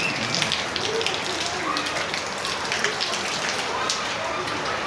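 Steady rain falling, a constant dense hiss of drops on surfaces that holds evenly throughout with no clear breaks.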